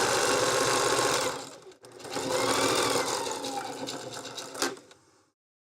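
A sewing machine stitching through rope runs loud and steady with a fast mechanical chatter, pauses briefly, then resumes more softly before stopping.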